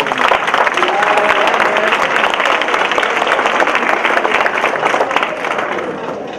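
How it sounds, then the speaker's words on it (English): A school luncheon crowd gives a hearty round of applause at a Hispanic Heritage event, dense clapping holding strong for about six seconds before easing slightly at the end. "So I think he deserves a great round of applause."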